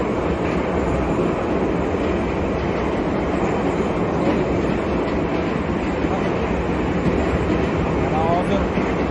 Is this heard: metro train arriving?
yes